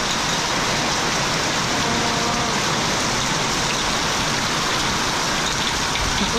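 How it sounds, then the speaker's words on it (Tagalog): Heavy rain pours down steadily at a rural farm home, a dense, loud, unbroken hiss that fills the whole stretch without pause. "Ang lakas ng ulan."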